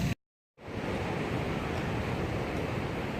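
Ocean waves on a beach produce a steady, broad rushing roar with a brief silent gap near the start, then constant loud surf noise with wind-like hiss.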